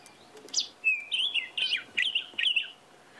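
A robin calling at sunset in the Sabi Sand reserve: a run of clear, rising and falling whistled phrases and chirps, repeated about five times in quick succession, fairly close against a quiet background.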